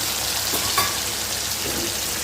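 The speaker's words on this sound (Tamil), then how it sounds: "எண்ணெயை லைட்டாக காய வச்சு நம்ம கருணக்கிழங்கை சேர்த்துக்கலாங்க" Pieces of elephant foot yam frying in hot oil, a continuous bright sizzle with a few brief stirring scrapes and clinks, fairly close by.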